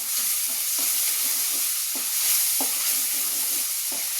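Food frying and being stirred in a pan, a steady close sizzle broken by several soft scraping stir strokes, with no voices.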